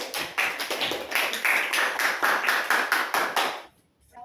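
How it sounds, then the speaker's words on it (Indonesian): A class of fourth-grade schoolchildren clapping their hands together in a classroom, a dense run of sharp claps that stops abruptly, leaving near silence. "Bisa tepuk tangan"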